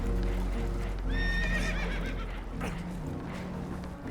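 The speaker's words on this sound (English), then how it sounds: "Horses are spooked" Spooked horses whinny in Red Dead Redemption 2, a sharp rising-and-falling neigh over hooves clip-clopping and rumbling background noise, near and moderately loud.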